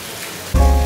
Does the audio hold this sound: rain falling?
yes